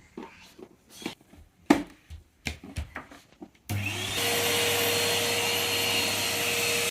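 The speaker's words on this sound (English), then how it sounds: "Let me show you how this Henry Hoover works." After a stretch of scattered handling knocks and clatter, a Henry Hoover vacuum cleaner switches on and runs with a loud, steady whirring roar and a sustained motor tone.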